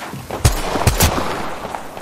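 Gunfire in Apex Legends during a competitive match: three sharp, close shots in quick succession in the first second, then a fainter pop against a low background hum.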